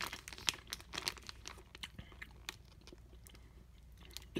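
Wenzel's Farm bacon cheddar snack being chewed close up, a quiet string of wet crunches and bites with faint crinkling in between, no talk.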